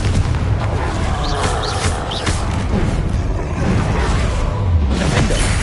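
Confringo blasting spells explode in a Harry Potter video game: dense, booming bursts and whooshes over a constant loud rumble, with sharper cracks scattered through.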